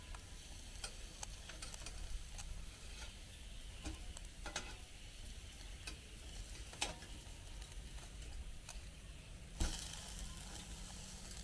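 Burger, spam and sausage frying over charcoal on a Pathfinder PFM40 hibachi-style grill, a steady soft sizzle and crackle with scattered small ticks and pops, fairly quiet and close, no voices.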